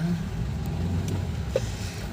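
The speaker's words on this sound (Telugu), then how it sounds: "ట్రాఫిక్ అండి, హెవీ ట్రాఫిక్." Heavy road traffic stuck in a jam, with cars, buses and trucks idling together in a dense, continuous low engine rumble with no break.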